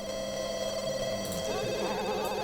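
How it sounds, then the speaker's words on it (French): A telephone rings in the life-simulation video game Perfect Life, a faint, steady electronic ring mixed with game music and background tones. "Le téléphone, je vais filtrer les appels parce que ça va être un peu relou."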